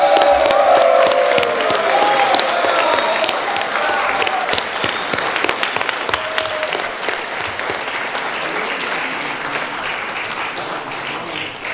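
A large conference audience stands and applauds, loud continuous clapping with some crowd noise and faint cheering, a brief tonal line of voices early on, the applause holding steady for the whole stretch.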